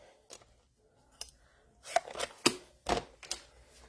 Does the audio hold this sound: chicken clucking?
no